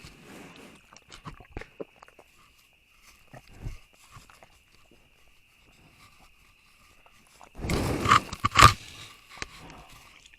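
Black bear chewing on a wildlife camera outdoors: scattered close scrapes, knocks and crunching bites on the camera body, with a burst of louder gnawing and clattering near the end, set against a faint steady hum.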